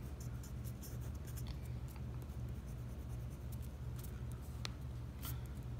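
A Parker 51 fountain pen with a smooth, wet nib writes on paper, leaving faint scratchy strokes in short bursts over a low steady background hum.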